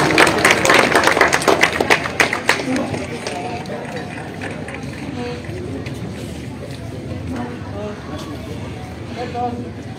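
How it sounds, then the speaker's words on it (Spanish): Applause for a Bolivian artists' band at a Franz Tamayo gathering in Yucumo, Beni, loud and dense at first, then thinning into a softer, steady patter with background talk. "Un fuerte aplauso, queridos hermanos, amigos."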